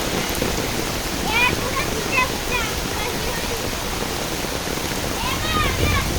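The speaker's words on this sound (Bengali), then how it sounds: "এত বৃষ্টি করে আমরা, এত গরমের পরে আমরা বৃষ্টি পেলাম" Steady heavy rain pouring down during a storm, a dense continuous wash with a few faint bird chirps and splashes, close and loud throughout without any talk.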